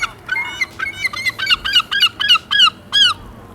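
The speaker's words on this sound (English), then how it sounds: "Yeah, so we're surrounded by seagulls." Seagulls squawking in Dublin, a rapid run of loud, harsh, repeated calls close by, rising in strength over a low murmur of outdoor background noise.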